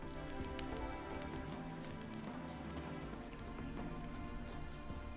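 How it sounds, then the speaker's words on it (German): Steady rain patters in The Witcher 3: Hearts of Stone, a dense continuous hiss of drops on surfaces with a faint game ambience underneath, holding at an even level throughout. "wenn es hier so oft regnet"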